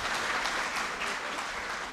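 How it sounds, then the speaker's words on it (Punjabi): Studio audience at a DD Punjabi television show breaks into sustained applause, a dense, steady wash of clapping that holds at an even level for the whole stretch with no voices over it. "ਇੱਕ ਵਾਰ ਜ਼ੋਰਦਾਰ ਤਾੜੀ ਆਪਣੇ ਲਈ"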